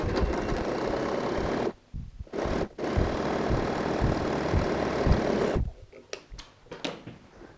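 Domestic sewing machine running a straight stitch along the main side of a fabric tote bag, a steady close motor whir with two brief pauses and a stop near the end, followed by a few light handling taps.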